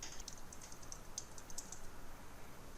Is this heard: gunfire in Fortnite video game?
no